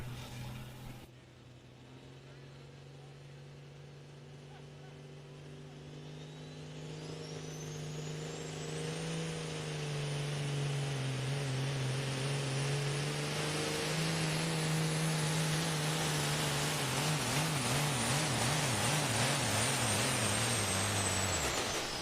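A semi truck's engine revs hard during a truck pull competition, its loud drone climbing steadily in pitch and intensity and wavering near the end as it strains under load.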